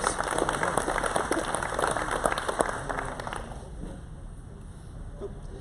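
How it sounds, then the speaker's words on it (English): Applause from a gathered audience at a workplace meeting, a steady wash of clapping for the first three seconds or so, then thinning to scattered claps and room murmur. "we're going to have to clap extra loud"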